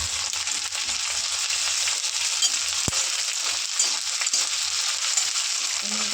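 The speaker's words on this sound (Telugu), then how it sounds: "కొద్దిగా అల్లం వెల్లుల్లి పేస్ట్, పచ్చివాసన పోయే వరకు వేయించుకోండి" Ginger garlic paste fries in a pan for tomato rice, giving a continuous bright sizzle with a faint stirring scrape and one sharp click partway through; no one speaks.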